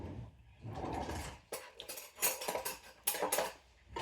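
A metal spoon clinks and scrapes against a dish while sprinkles are spooned onto baking, in irregular bursts of close, bright taps and rattles with no talking.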